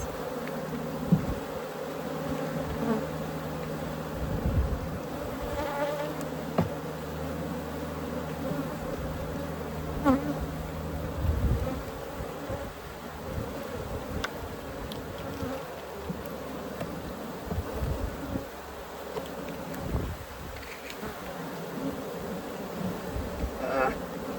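Dense buzzing of many honey bees close by during a hive inspection, a steady swarm hum with brief handling noises and faint voice in the background.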